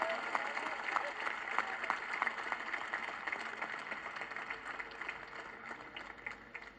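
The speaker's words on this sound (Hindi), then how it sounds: "ये नस्ले नौ के तमाम शायरों के लिए आप एक दफा तालियां बजाइए" Audience applause at an Urdu poetry conference, a steady spatter of clapping from a crowd, fairly distant and soft, tapering slightly over several seconds.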